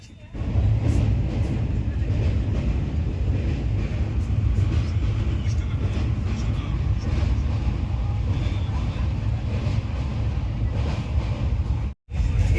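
A long-distance train pulling out of Sealdah station rumbles steadily and loudly from on board, with a brief dip near the end and a voice audible over the noise.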